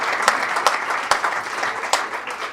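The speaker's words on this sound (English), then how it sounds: "So I'd like to give a round of applause" An audience at an authors' reception applauds, a steady wash of many hands clapping at moderate distance with a few sharper individual claps standing out.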